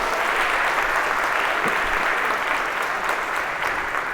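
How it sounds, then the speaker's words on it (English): Lecture-hall audience at a Harvard CS50 class applauding volunteers, dense steady clapping that is loud and continuous with no talk. "a round of applause for our volunteers here"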